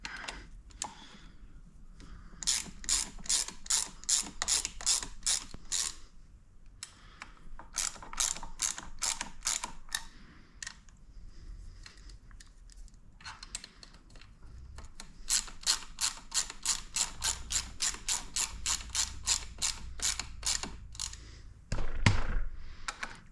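A hand ratchet drives screws into a 250 CRZ engine during reassembly, with close rapid clicking bursts repeated in runs and brief pauses between them.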